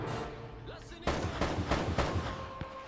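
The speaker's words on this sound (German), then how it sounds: "irgendeiner ballert hier wie noch was" Gunfire in the video game Uncharted, a cluster of several sharp shots in quick succession after a quieter stretch, fairly loud and dense.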